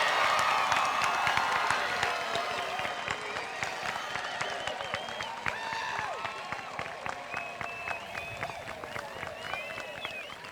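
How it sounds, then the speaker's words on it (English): Crowd applause and cheering for the Havelock High School class of 2017 at their graduation, dense clapping with scattered whoops and whistles rising over the noise, steady and fairly close throughout. "Let's have a round of applause for the Havelock High School class of"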